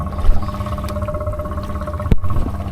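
A 2015-16 Honda Pioneer 500 UTV with a snorkel mod idles neck deep in water, a low burbling engine hum with watery sloshing, gurgles and a sharp splash or clunk partway through.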